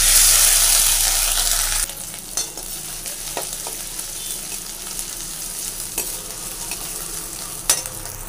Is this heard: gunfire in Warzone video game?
no